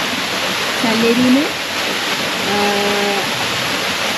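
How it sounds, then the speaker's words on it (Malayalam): A waterfall along the Everest Base Camp trekking route in Nepal roars as a steady, dense wash of noise, with faint voices briefly rising over it. "അപ്പോൾ ബ്യൂട്ടിഫുൾ വെള്ളച്ചാട്ടം"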